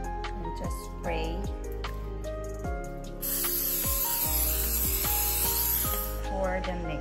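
Cooking spray hisses steadily for a few seconds into a baking container for cassava cake, bright and close, after a stretch of clattering and handling noises, with music playing underneath throughout.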